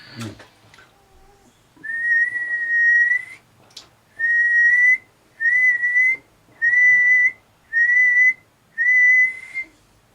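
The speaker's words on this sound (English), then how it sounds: "Let's put it back on SSB. Whistle it up." Steady whistled tones come through a Midland CB radio switched to SSB, in six loud sustained bursts with short gaps between them, each with a slight warble, after a brief click and some faint noise.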